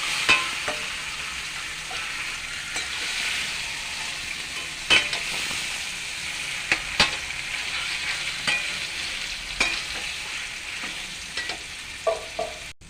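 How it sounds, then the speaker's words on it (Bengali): Kochu shak (taro greens) is stir-fried in a pan, sizzling steadily while a spatula scrapes and knocks against the pan in irregular, sharp clicks, close up with no voices. "ভালো করে কষে আর কিছুক্ষণ ভালো করে নাড়াচাড়া করে এটা কমপ্লিট হয়ে গেল কচুটা"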